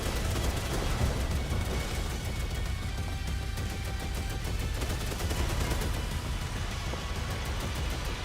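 Continuous rapid gunfire in a video game, a dense steady stream of machine-gun shots at close range that fills the whole stretch at an even loudness, with no talking.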